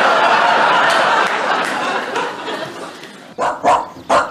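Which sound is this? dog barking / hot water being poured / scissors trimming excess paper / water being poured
dog barking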